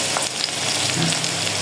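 Chicken frying in a pan with cauliflower and spices, a close, steady, loud sizzle with occasional faint clinks and stirring.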